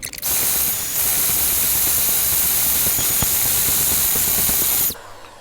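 An electric mixer whips egg whites toward stiff peaks, a loud continuous whirring hiss with faint rhythmic rattling of beaters in the bowl for about five seconds before cutting off abruptly.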